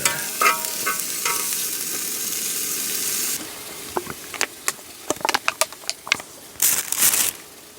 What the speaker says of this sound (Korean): 자 이제 삼겹살 들어갑니다